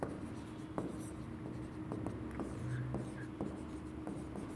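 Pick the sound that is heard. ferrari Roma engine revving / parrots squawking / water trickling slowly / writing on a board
writing on a board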